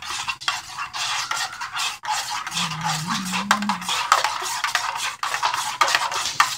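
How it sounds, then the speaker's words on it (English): A spoon stirs coffee in a cup, making steady scraping and clinking against the sides, close and fairly loud. "Let's stir the coffee here."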